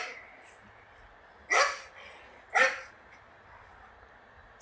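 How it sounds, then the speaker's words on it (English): A dog barks twice, about a second apart, each bark short and fairly close against a faint background hiss. "It's a dog."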